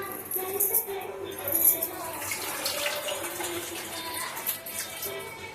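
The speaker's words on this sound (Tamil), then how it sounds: "பாருங்க, ஒரு கப்பு தண்ணி எடுத்துருக்கேன். அது தேவையான தண்ணி நம்ம ஊற்றிக்கலாம்." Water is poured from a cup into a mixer jar holding rice, giving a soft, continuous splashing trickle with small surges, fairly quiet and close.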